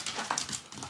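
A dog gives a brief, faint whimper of a few thin, high, wavering whines over a quiet background.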